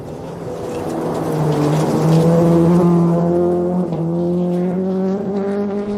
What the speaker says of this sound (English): I love how the rally car is drifting and creates that dust cloud behind it